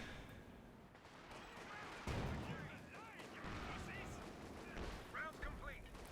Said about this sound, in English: that's a major barrage going to be coming down here